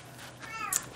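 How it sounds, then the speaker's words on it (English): A cat meows once indoors, a short, fairly faint rising cry near the end, alone without talk. "I'm sorry about the cat"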